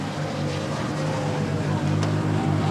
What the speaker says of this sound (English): And it sounds very rough, the Ford Sierra Cosworth.